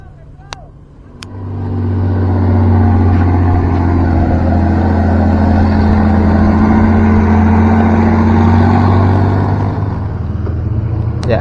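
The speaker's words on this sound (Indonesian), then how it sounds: "kendaraan truk yang membawa tanah timbunan menuju ke arah STA 15" A dump truck hauling fill soil along a toll road construction site rumbles past close by, its engine droning loud and steady for most of the stretch before easing slightly at the end, with a voice talking over it.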